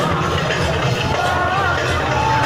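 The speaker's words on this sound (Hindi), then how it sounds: "कितना ज़्यादा भीड़ भाड़ है।" Dense murmur of a temple crowd of devotees, many voices blending into a steady, continuous wash with no single speaker standing out.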